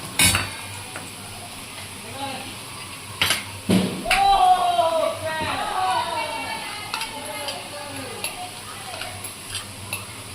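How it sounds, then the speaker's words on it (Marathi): Onions sizzling and frying in a pan as they turn reddish-brown, with a steady low crackle, occasional spoon stirs and clinks against the pot, and a few sharper knocks near the start. "कांदा चांगला आपला भाजत आलेला आहे।"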